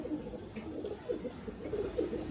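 Madrasi pigeons coo softly in a steady, overlapping murmur close by, a few louder coos rising now and then through the short stretch.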